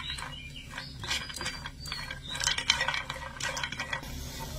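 Cashews, raisins and almonds are frying and being stirred in a pan, with steady clattering, scraping strokes of the spoon over a continuous low sizzle at close range.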